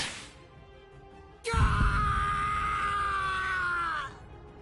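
A man cries out in pain in a long, loud, strained scream that starts abruptly after a short quieter sound and holds steady for over two seconds before fading.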